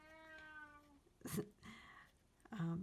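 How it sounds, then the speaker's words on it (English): A house cat meows several times, first a long drawn-out tonal cry, then shorter bursts, fairly close but not loud in a quiet room. "Sorry about my cat."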